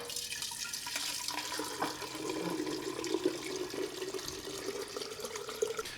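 Spirit runs off a rum still into a container, a steady, continuous trickle and pour of liquid heard close and alone.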